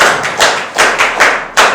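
A few loud, close hand claps sound in a slow, uneven rhythm, each one a heavy thudding smack, as a class of students applauds a classmate.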